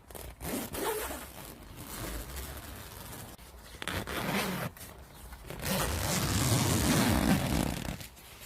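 Crash zips on the outer mesh door of a Slummit Cub 2 tent being pulled open and shut, several loud, close rasping zipper runs with short pauses between them, and no talking.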